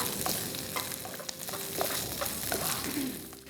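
Red capsicum and yellow and green zucchini for Jain Schezwan fried rice sizzle steadily in a hot pan, with a spatula scraping and stirring in irregular clicks throughout.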